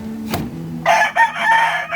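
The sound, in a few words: fighting rooster crowing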